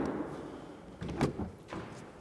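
A 2021 Ferrari F8 Spider's front hood is shut, a muffled thud with a brief latch click, fairly faint against low background noise.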